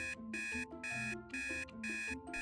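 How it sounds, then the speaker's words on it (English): An alarm clock rings in a steady on-off pattern, four loud bright electronic bursts separated by short gaps, heard alone and close. "The alarm blared before the sun had even risen"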